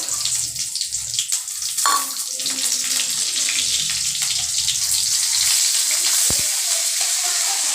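Spices and curry leaves fry in hot oil for mutton kulambu, a loud, continuous close sizzle with a few stirring scrapes and a sharp burst as ingredients hit the pan.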